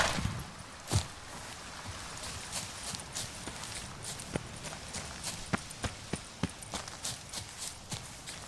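Hoofbeats of Roach the horse in The Witcher 3, a steady clip-clop of hooves at a trotting rhythm, fairly faint and alone, with one louder thud near the start.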